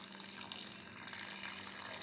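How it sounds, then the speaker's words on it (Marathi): Water pours into a pot for cooking tamarind, jaggery and dates, a steady faint gushing stream heard close with no talking. "पाणी भरपूर घाला,"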